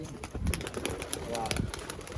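Pigeons coo softly among general bustle and indistinct voices, a short stretch of low, throaty bird calls.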